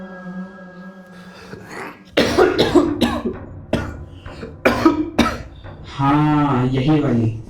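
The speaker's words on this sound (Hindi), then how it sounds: "अपनी थ्रोट क्लियर कर। खांसी रियल वाली" A man clears his throat and coughs several times in sharp, separate bursts with short pauses between them, close and loud, ending in a longer raspy, strained vocal sound.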